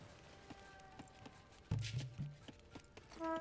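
Horse hooves clip-clop in a regular walking rhythm from the horse archers in Age of Empires, with a louder thump and scattered game sound effects partway through, fairly faint overall.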